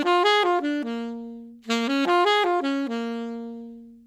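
Three seventh chords on a keyboard or piano, major seventh, dominant seventh and minor seventh, each arpeggiated upward then held, the sequence played twice, clear and close with no talking.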